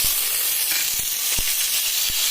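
Cumin seeds sizzle steadily in hot oil reused from frying, a continuous close hiss broken by a few soft clicks and pops, with no voices.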